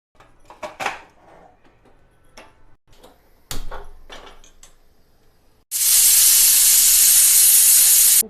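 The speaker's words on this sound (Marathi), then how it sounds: "कुकरमध्ये ठेवते, 3 शिट्या काढून घेते।" A few clicks and knocks in a kitchen, then a pressure cooker holding salted sweet corn bursts into a loud, sustained steam hiss, steady until the end.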